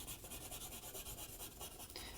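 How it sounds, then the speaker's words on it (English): Charcoal is shaded across paper while drawing a bird, giving a soft, continuous rubbing and rasping texture that stays steady and close, quiet with no talking. "this charcoal and shade it in."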